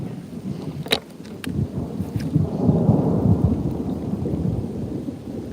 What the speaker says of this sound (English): That is some frickin' thunder, man.